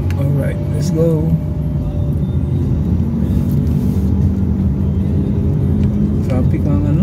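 Steady road traffic rumbles along a service road near Biñan City Hall, a dense continuous engine drone with occasional passing vehicles, while people talk over it.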